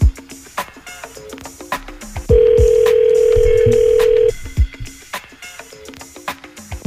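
A steady tone from a cell phone call rings for about two seconds in the middle, loud and continuous, with brief clicks and handling noises before and after it.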